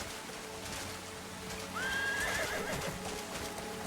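A horse whinnies once over steady hoof clip-clop while being ridden in the video game Crimson Desert, the neigh short and clear above a constant game ambience.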